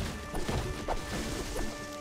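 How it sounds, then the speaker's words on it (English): Cars and trees being smashed apart in Fortnite: Save the World, heard as three or four sharp, crunching impacts in quick succession over a steady background game hum. "Try smashing up some cars and trees."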